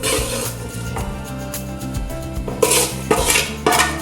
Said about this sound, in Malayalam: അപ്പോൾ നമുക്ക് ഇനി ഇതിലോട്ട് പ്ലേറ്റിലോട്ട് മാറ്റാം